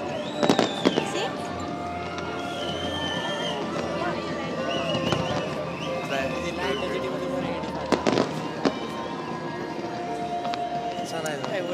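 Fireworks burst over the Helix Bridge in an outdoor crowd setting, with sharp cracks and booms at irregular intervals under a steady rumble of distant explosions, while people nearby chat throughout.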